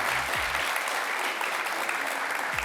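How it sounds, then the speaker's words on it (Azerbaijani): Studio audience at a youth TV show applauding steadily, a dense continuous wash of clapping from many hands at fairly even loudness throughout. "Bir alqışlarla gəncliyin enerjisini hiss edək."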